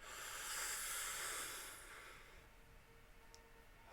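A slow, deep inhale during guided meditation breathing, a soft airy rush building over about a second and a half before fading into near silence.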